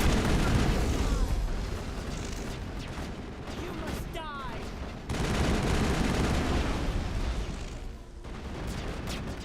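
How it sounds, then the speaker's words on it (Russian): Chaotic firefight in the Mass Effect video game, with a dense, steady wash of gunfire and explosions filling the whole stretch, briefly dipping in the middle before surging back loud. "Все вокруг взрывается, какой-то хаос творится."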